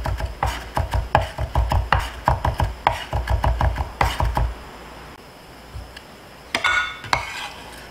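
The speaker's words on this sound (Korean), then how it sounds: "또 굵은 부분 다시 한번 왔다 갔다 다집니다" A knife rapidly chops onion on a cutting board for tartar sauce, a quick run of sharp, close taps that pauses briefly and then resumes with a few more strokes.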